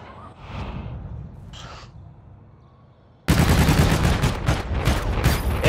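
Rapid automatic gunfire bursts out loudly and continues densely in a shooter game aimed at hay bales, preceded by quieter ambient rumble and brief sounds with no talk.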